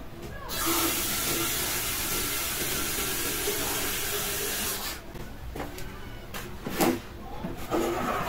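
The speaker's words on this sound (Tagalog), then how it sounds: "linagyan ko ng tubig para magkape na" Tap water streams steadily into an electric kettle for coffee, a bright hissing pour that runs for about five seconds, then stops and gives way to a few short splashes and clunks as the kettle is handled.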